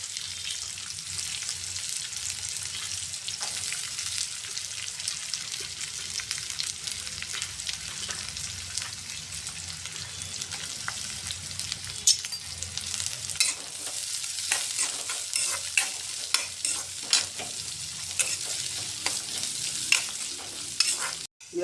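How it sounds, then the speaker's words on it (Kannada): Chopped onion and curry leaves frying in oil in a pan for tondekayi palya, a dense, steady close sizzle with occasional crackles and light stirring scrapes throughout. "ಇದು ಫ್ರೈ ಆಗಿದೆ ಸ್ವಲ್ಪ."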